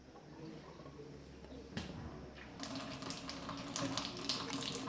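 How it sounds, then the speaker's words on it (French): A Miracle Max Royal water ionizer connected to a home tap starts filling, a faint background hum giving way to a steady rushing stream of running water that grows louder and stays constant. "Je vais mettre directement en route la machine. Elle va se remplir."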